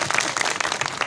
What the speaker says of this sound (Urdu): بھرپور تالیوں میں ان کا استقبال کیا جائے.